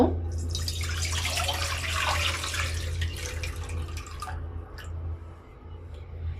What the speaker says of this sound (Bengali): কড়াইয়ের মধ্যে আমি ডাবের পানিটা ঢেলে দেব